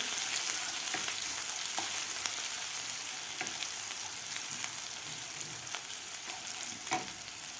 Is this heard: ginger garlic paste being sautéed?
yes